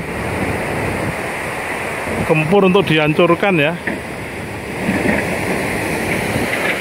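The Progo River rushes through a narrowed gap at the Srandakan dam embankment, a steady broadband roar of water running throughout, with someone talking briefly over it in the middle.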